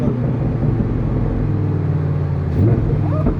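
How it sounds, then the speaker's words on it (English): A Lamborghini's engine drones at a low, steady rumble, then briefly dips and rises as the transmission downshifts, heard from inside the car. "It's downshifting the transmission"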